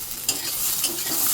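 Onions frying in a pan with very little oil, a steady hiss and sizzle with a couple of sharper stirring scrapes, close and moderately loud.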